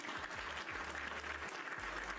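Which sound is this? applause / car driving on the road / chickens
applause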